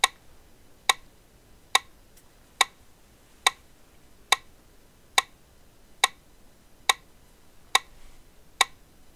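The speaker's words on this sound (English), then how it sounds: "Metronome mark 70, metronome 70 beats per minute." Metronome set to mark 70, ticking at 70 beats per minute, with eleven sharp, evenly spaced clicks ringing out alone against a quiet background.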